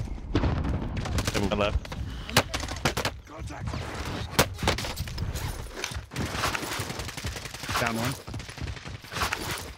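Rapid gunfire bursts in Call of Duty Warzone, in a Cold War Zombies mode, come in repeated volleys mixed with in-game effects while players call out to each other over them.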